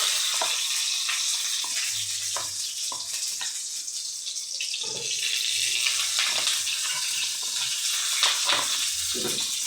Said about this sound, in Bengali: আগে পটলটা ভেজে নেবো।